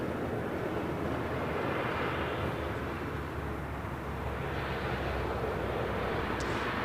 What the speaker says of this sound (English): Japan Airlines Flight 60 coming up from Osaka, 787-9 Dreamliner.